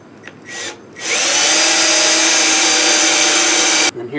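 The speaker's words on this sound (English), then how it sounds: "let's drill this hole" A power drill with a pilot bit whines steadily at close range for about three seconds, starting after a couple of short bursts and cutting off abruptly.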